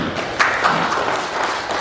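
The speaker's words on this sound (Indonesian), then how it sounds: "Tepuk tangan dulu buat Pak Desa" Brief applause for a village head at a community disaster-preparedness meeting, a short burst of muffled, dense clapping from a seated group.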